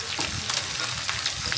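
Spices and red chilli sautéing in hot oil, a close, continuous sizzle with stirring scrapes, no voices.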